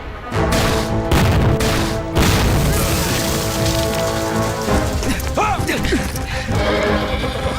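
Small-arms gunfire with no heavy weapons crackles through a war-film battle against Japanese troops, dense and loud, with sharp bursts in the first two seconds and a high whinny-like cry rising later over the steady roar.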